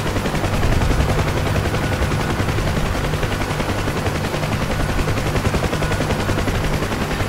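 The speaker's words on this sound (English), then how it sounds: "Oh shit, taking fire, taking fire" Continuous rapid gunfire during a combat flight game strike on Novorossiysk, a dense, steady, loud rattle of cannon or machine-gun bursts running throughout with no pauses.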